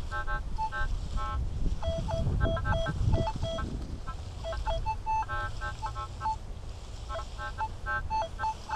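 Rapid bursts of short, high electronic chirps and beeps from a CTX 3030 metal detector, false signals over iron, scattered and irregular, over wind rumble and low outdoor noise.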